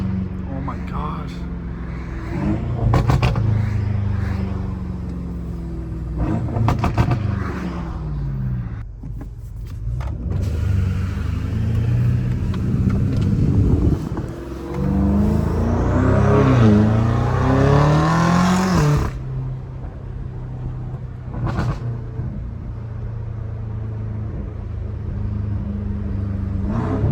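A BMW M5 Competition engine revs hard and loud, rising and dropping with shifts and bursts of rumble, while people talk over it throughout.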